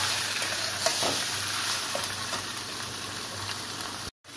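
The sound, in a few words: chicken meat frying and stirred in pan with spices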